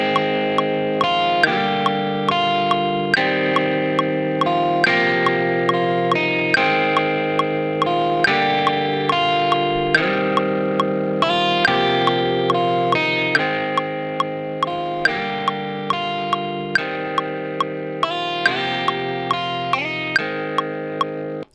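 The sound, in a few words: guitar through stock Ableton guitar amp preset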